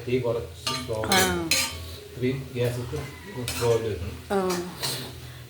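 A spoon stirs egg thoran in a pan with repeated clinks and scrapes of metal on metal, heard up close under a voice talking.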